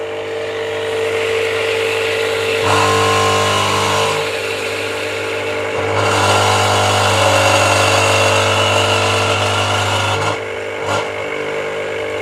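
Elektra Micro Casa semiautomatic espresso machine runs after its dosing button is pressed, giving a loud steady pump drone with metal-on-metal rattle. The drone rises in pitch and strength in bursts over about ten seconds, then cuts off.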